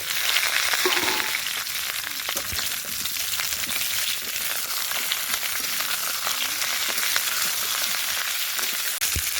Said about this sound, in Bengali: আলুটা ভাজা ভাজা হয়ে গেছে, এবার ওর মধ্যে দিয়ে দেবো ফুলকপি।